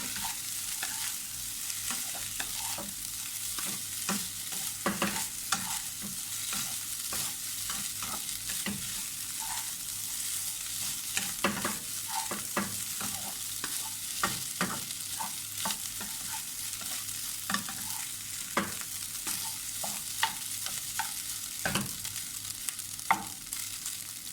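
Tom yum fried rice with shrimp being stir-fried in a pan, a continuous close sizzle broken by frequent sharp scrapes and clacks of the spatula over a long stretch, with no talking.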